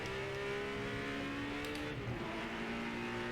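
Chevy GT race car in the Project Motor Racing game roaring along the straight, a continuous high-revving engine whine with sliding pitch as it passes, loud and close with no voices.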